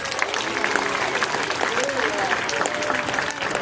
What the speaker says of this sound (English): Let's give our keepers and our stars a round of applause.